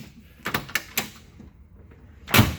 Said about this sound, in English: how well the doors open and close